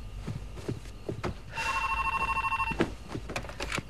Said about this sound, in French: Tyler, tu veux bien répondre?